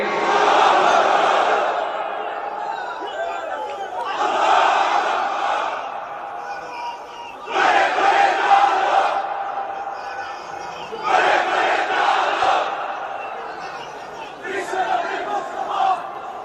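A large crowd at an Islamic lecture chants takbir in unison, in four or five loud swelling shouts separated by short pauses, with massed voices echoing through a big hall.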